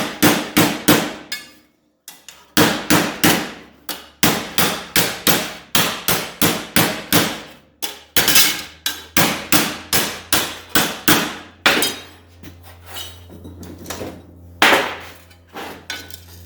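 Ball peen hammer beating a steel drip rail into shape on a rusty car, delivering a long series of sharp, loud metallic strikes in steady rapid bursts with brief pauses between runs.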